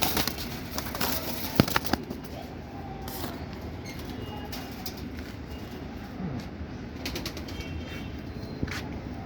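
Ziria pigeons kept by a hobbyist coo softly amid steady ambient noise, with a few sharp knocks near the start.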